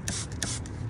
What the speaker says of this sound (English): what I'm spraying right now is Brake Buster